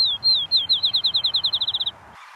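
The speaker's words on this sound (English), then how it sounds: "They played the sparrow." A recorded sparrow song plays from a speaker: a couple of opening notes followed by a fast, evenly spaced series of bright repeated trills that speed up slightly, then stop abruptly.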